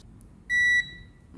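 A multimeter set to diode and continuity test gives one short, clean electronic beep of about a third of a second, close and clear against a quiet background, while testing a water dispenser pump.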